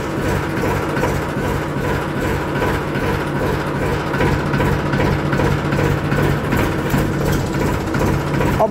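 A tractor engine idles steadily after starting, a continuous low rumble with a rough, throbbing texture, close and loud throughout with no speech.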